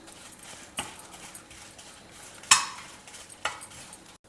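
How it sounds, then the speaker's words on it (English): Spicy and mild Bydagi chilies are stirred as they roast in a pan over a low flame, with soft scraping, a few utensil clinks against the pan and a sharp metallic knock midway, no voices. "Now add in the chilies, the spicy chilies as well as the non-spicy Bydagi chilies, and roast them over a low flame."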